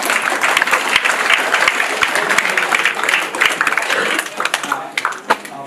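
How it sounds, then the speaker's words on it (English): Audience applause at a memorial service, a dense, steady round of clapping from a gathered crowd that stays loud throughout and thins toward the end, with a few sharper claps standing out. "Sorry, round of applause for Robin, please"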